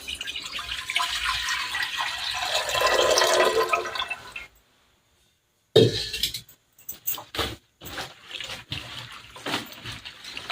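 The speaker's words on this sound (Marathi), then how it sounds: "इकडे मी कुकर ठेवलेलं कुकरमध्ये पण पाणी टाकायचं आहे" Water pours into a pressure cooker in a steady rush for a few seconds, stops abruptly, then comes back in shorter splashes and trickles.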